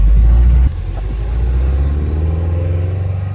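A turbocharged Honda S2000 pulls away up a street, its engine loud and close with a deep rumbling note that drops briefly as it shifts, then climbs steadily again under acceleration.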